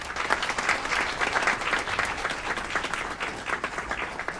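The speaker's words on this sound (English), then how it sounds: "Give them a round of applause." Audience at an Aurora city committee meeting applauds honorees during an award presentation, a lively, continuous burst of many hands clapping with slight swells.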